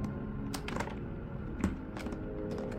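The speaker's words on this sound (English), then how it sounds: "My keyboard doesn't respond anymore." Computer keyboard keys tapped in scattered, uneven clusters during a Windows XP installation, quiet and close with a faint background hiss and no talking.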